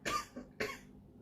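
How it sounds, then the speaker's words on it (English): Two short, close coughs from a COVID cough in quick succession, fairly quiet, with a brief pause between them. "I apologize for coughing in the videos"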